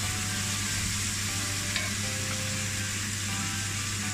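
Tuna fries in hot oil with a steady, even sizzle that stays close and constant throughout, joined by a faint clink partway through and no talking.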